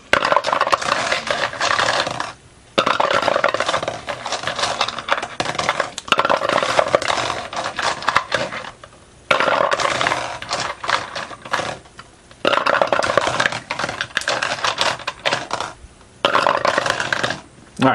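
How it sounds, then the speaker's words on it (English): Dice clatter down through a wooden dice tower in repeated bursts of rattling and tumbling, each lasting a few seconds and separated by short silent gaps. "while I'm rolling the dice"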